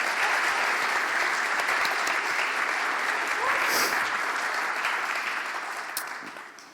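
Audience applause for the art and design faculty at a senior art colloquium, a steady dense wash of clapping from a large crowd that holds evenly, then thins and fades toward the end.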